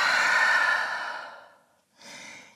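Breathing deeply in downward dog during a vinyasa yoga flow: a long, loud exhale that fades away, a brief pause, then a softer breath starting, close and without talk.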